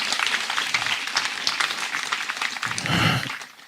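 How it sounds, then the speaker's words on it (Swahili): Applause from the audience at a dormitory block commissioning ceremony at Hospital Hill High School, a dense steady patter of many hands clapping throughout, swelling slightly near the end. "Tuwapigie makofi tena."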